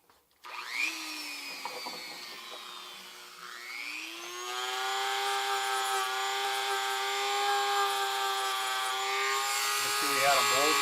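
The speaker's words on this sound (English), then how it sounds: "I'm going to use the little sander here on the Dremel to try and smooth up a little bit of these" A Dremel rotary tool fitted with a small sanding attachment spins up with a rising whine, then holds a steady, fairly loud high-pitched buzz while smoothing the edges of a hobby model.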